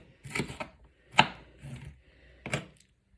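Knife chopping onion on a board for a stew, three sharp separate chops with short scraping strokes between them, close and fairly loud, with no talking.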